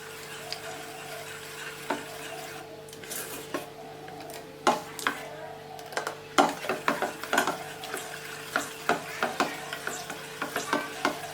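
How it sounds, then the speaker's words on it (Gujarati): A spoon stirs khaman batter in a bowl after water is added, producing a steady series of scraping, clicking strokes that grow more frequent, close and alone with no talk. "2 ચમચી જેટલું પાણી ઉમેર્યા પછી આપણે ફરી હલાવવાનું છે."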